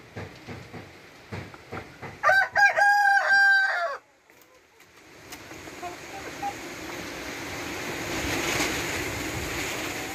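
A heritage-breed free-range rooster crows once nearby, a loud ringing call, after some scattered knocks; afterward a steady wash of background noise like distant surf fills the air.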